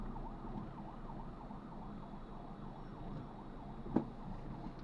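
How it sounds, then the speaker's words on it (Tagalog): A barangay (village) ambulance siren wails in a steady, rising-and-falling cycle at a moderate distance, with traffic rumble underneath and a brief sharp knock near the end. "Ambulansya ng barangay."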